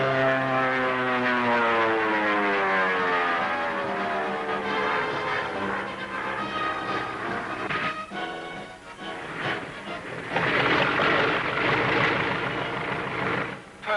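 A propeller airplane comes in to land, its loud engine drone sliding downward in pitch as it passes close, then rumbling and sputtering unevenly as it touches down.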